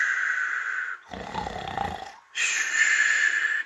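A storyteller imitates a sleeping giant's snoring, a single long rasping snore between stretches of steady hiss, close and moderately loud.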